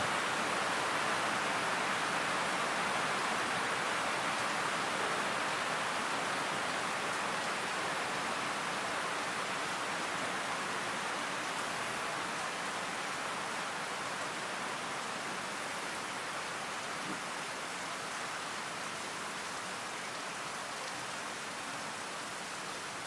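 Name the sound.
rain falling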